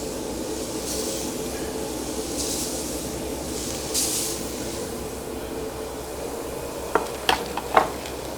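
Burgers sizzle on a Fire Riot griddle and frying station cooker, a steady close hiss with brief surges of louder sizzle, then a few sharp metallic clinks near the end.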